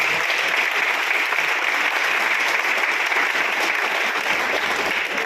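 A crowd claps loudly and continuously, a dense, even wash of applause that holds steady from start to finish.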